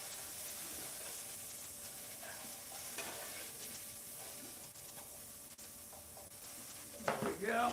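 Thin pork chops fry in a pan in a hotel room, giving a faint, steady sizzle and hiss with a brief clatter near the end.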